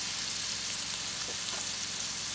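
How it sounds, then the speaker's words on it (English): Onions sautéing and browning in leftover oil for chicken korma, a steady close sizzle and crackle with no talk. "browning and sauteing my onions. In the remaining oil."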